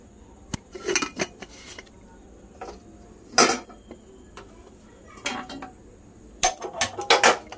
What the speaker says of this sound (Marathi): आता आपण बटाटे स्वच्छ धुवून शिजायला टाकते।